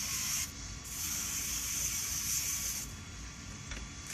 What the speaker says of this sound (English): One thing I never did do was spray down that clutch